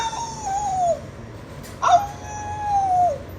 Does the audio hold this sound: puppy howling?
yes